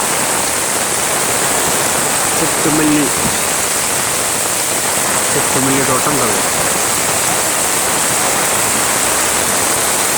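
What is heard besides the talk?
heavy rain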